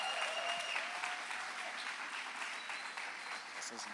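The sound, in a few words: church congregation applauding pastors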